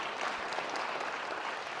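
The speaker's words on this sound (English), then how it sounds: "Clap your hands now for me if you think tech companies are part of the problem" A crowd of audience members claps together in a hall, a dense, even patter of many hands sustained for a couple of seconds.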